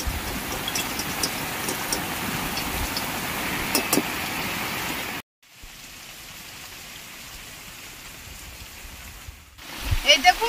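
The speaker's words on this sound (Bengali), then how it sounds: "বাইরে খুব বৃষ্টি হচ্ছে।" Heavy rain falls outside as a steady hiss of drops on surfaces. The rain cuts out abruptly midway, and a quieter, muffled stretch follows before a few louder knocks at the end.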